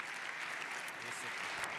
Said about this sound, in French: Applaudissements pour ces messieurs.